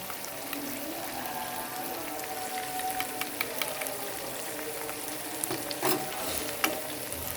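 Chicken pieces frying in oil for a Lahori-style karahi, a soft continuous sizzle with small spattering pops and occasional stirring clinks, fairly quiet and with no talking.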